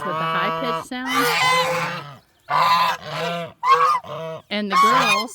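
Guinea fowl keets calling in bursts of loud, harsh, high-pitched honking cries, many overlapping voices with short pauses between, close by in a coop on a farm morning.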